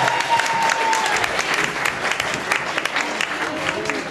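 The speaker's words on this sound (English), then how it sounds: "A round of applause for our B 2014 champions, Team 1" An adult spelling bee crowd applauds the 2014 champions, Team 1: dense, sustained clapping that stays loud and even for around four seconds, with faint murmuring voices threaded through.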